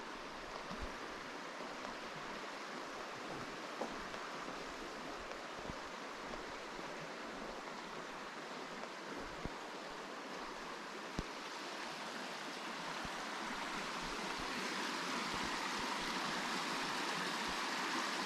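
The River Dee rushes steadily beneath a footbridge on the Mar Lodge estate, a broad, even hiss of flowing water heard from above with no voices or other sounds.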